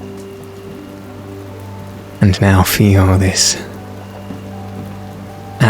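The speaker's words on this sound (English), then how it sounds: "atmosphere of moisture from the rain pouring down" Rain pours down as a steady, broad hiss beneath a low humming drone, while someone speaks briefly in the middle, close and clear over the wet wash.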